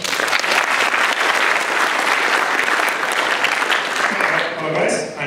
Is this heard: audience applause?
yes